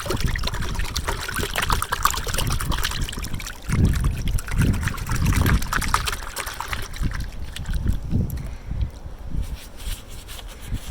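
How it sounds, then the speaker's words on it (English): Water trickles and splashes steadily while car wheels are washed with frothy wheel soap, a close, continuous wet dribble with a few louder splashy bursts, then thinning toward the end. "I'm gonna get my wheel soap in there, froth it up a bit."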